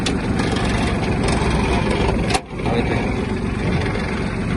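A Yanmar F-155 mini tractor runs steadily with its power take-off engaged and a rotary tiller turning, a loud continuous engine drone broken by one brief dip midway.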